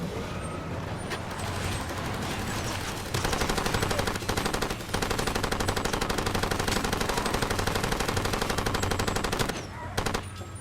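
Rapid, sustained automatic gunfire from enemies in the Far Cry 2 video game, dense continuous bursts with brief gaps, loud and close throughout.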